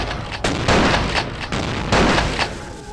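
Ithaca shotguns fire in a series of loud, sharp blasts, about four or five reports spaced unevenly across a few seconds, each with a short echoing tail.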